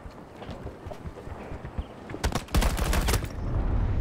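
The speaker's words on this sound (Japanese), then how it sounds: "なんか足音するんだけど。" Footsteps in the video game Battlefield 2042 patter faintly and irregularly, then give way to a loud burst of rapid gunfire.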